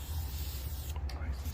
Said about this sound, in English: Put a little spray over here, and we're gonna do the first one light.